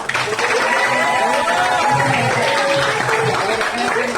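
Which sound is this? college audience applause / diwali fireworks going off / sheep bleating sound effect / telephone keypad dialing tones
college audience applause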